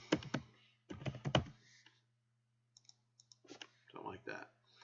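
Bursts of typing on a computer keyboard, close and crisp clicking keystrokes in quick clusters separated by pauses, with a faint electrical hum beneath.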